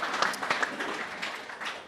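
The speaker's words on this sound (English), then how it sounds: "Round of applause for a magnificent video" Audience applause at an evening Melbourne Cup tour event at a wharf venue in Port Fairy, a fairly quiet, dense patter of many hands clapping steadily for under two seconds.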